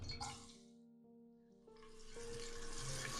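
Sliced onions sizzle in hot cooking oil in a pressure cooker, a soft, steady crackling hiss that fades briefly and then swells again, with no talking.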